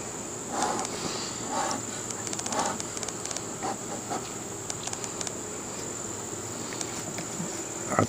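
Honey bees buzz steadily around a row of beehives during late summer hive work, a faint, continuous insect hum with brief intermittent clicks and rustles, and no talking.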